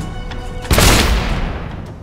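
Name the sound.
gunpowder explosion set off by gunshot, Risen 2 video game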